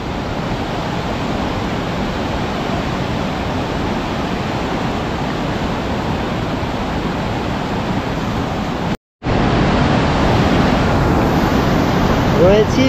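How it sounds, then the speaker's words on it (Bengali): A strong current of water rushes and roars at a dam, a dense, loud, continuous wash of noise with wind buffeting the microphone, cut briefly by a short dropout near the end. "জলের প্রচণ্ড স্রোত, প্রচণ্ড।"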